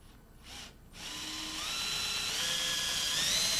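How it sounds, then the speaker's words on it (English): A power drill with a brad point bit bores into wood for a wooden drawer, starting after a couple of short bursts and then whining steadily and loud to the end. "Make sure you drill in at an angle here so that the bit doesn't nick the inside face of the drawer front or back."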